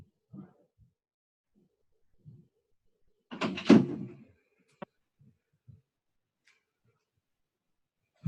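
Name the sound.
door being closed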